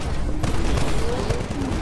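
Gunfire in the Titanfall campaign, a loud, rapid stream of automatic shots rattling without pause, with heavier thumps mixed into the continuous fusillade.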